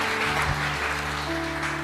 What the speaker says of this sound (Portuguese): Você pode aplaudir a Deus na vida desses irmãos.